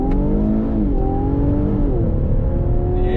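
A 2021 Infiniti Q60 Red Sport 400 coupe accelerates hard on throttle. Its engine note climbs loud and close, dips briefly at each gear shift, then keeps pulling steadily.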